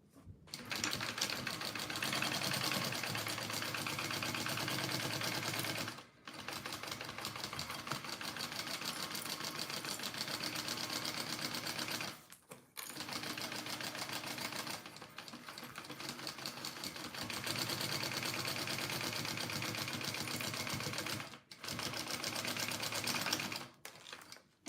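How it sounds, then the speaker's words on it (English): A sewing machine stitches through the layers of a crossbody bag in long, steady runs, loud and close, with three brief pauses between bursts and no talking. "I just put some clips on it so it doesn't shift as I'm sewing"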